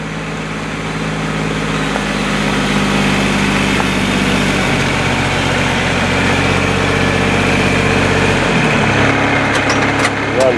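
RTV utility vehicle engine running steadily while it drives back and forth over a layer of walnuts to break up the hulls, a loud continuous motor drone with a pitch shift near the end.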